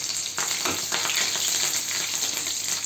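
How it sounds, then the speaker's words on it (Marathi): Cumin, garlic and green chili fry in hot oil for a spring onion greens bhaji, giving a steady close sizzle with a brief stirring scrape near the start and no voices. "तेल तापले तेलामध्ये जिरं लसूण हिरवी मिरची"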